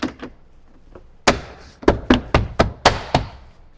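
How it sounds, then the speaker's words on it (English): Plastic trim piece on a 2010–2024 Toyota 4Runner's rear cargo area being knocked into place: a few soft taps, then a run of about seven sharp, close thumps in quick uneven rhythm. "Knock it into place."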